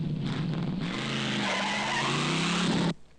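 Car making a jackrabbit start, a loud close burst of engine roar with squealing tires that holds for about three seconds and then cuts off abruptly, with no talking.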